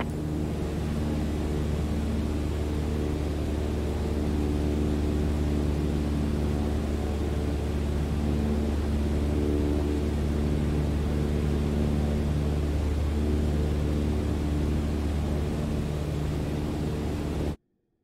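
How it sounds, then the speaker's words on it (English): Cessna 152 propeller engine at full climb power in Microsoft Flight Simulator, a steady loud droning hum with rushing airflow, continuous and unchanging throughout, cutting off abruptly at the end. "On the Cessna 152, you need full power to climb effectively."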